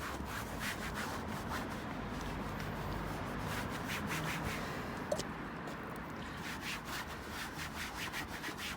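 A cloth rubbing around a scraped, grazed car bumper as it is wiped down with IPA, giving a steady, close scrubbing hiss that continues without a break.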